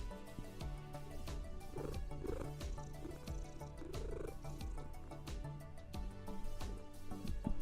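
A cat purrs steadily up close, with soft little chirping trills breaking in now and then.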